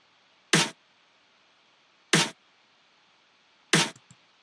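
Three crisp hits of a future bass snare drum sample with the low end cut by EQ, evenly spaced, bright and short with quick decay, sounding alone against near silence.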